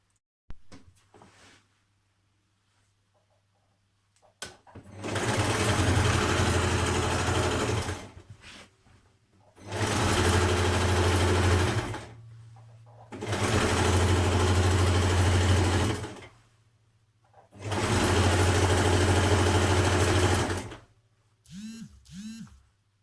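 A sewing machine stitches the side seams of a NewLook 6679 dress in four long, loud, even runs, with quiet gaps between them and a couple of brief clicks at the end.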